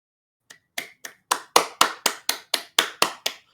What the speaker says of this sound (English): the Barado Council stands up and claps at you guys